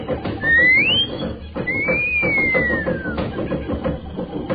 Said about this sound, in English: I'll give her the wolf whistle.